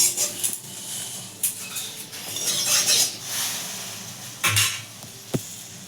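A wok is set down on a stove while cooking a sweet-sour jujube pickle, giving several sharp metallic clanks and knocks with scraping in between, close and fairly loud.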